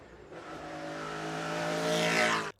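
A BRM V16 Mk2 racing car engine revs with a sustained, rising high-pitched wail, building in loudness before cutting off abruptly.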